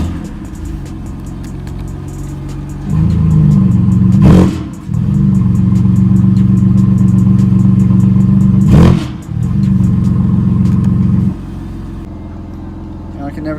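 A stage 2 BMW M3 F80 engine idles after fresh spark plugs, then holds a raised rev for several seconds with brief dips and sharp clatters between, loud and close before settling back to idle.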